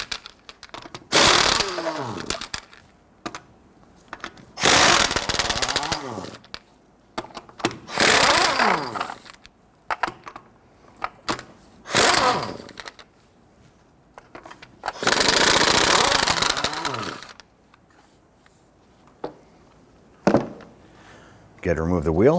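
A power impact tool spins the 21mm lug nuts off a Nissan Frontier front wheel in several loud bursts of whirring and rattling, each lasting a second or two, with quiet gaps between them.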